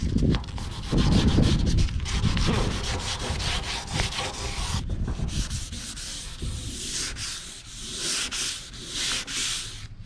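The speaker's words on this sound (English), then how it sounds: "you could just keep sanding till it's gone" Hand sanding of car paint ahead of 2K filler primer, steady close scraping and rubbing strokes running continuously, louder and coarser at first and then lighter and more hissy.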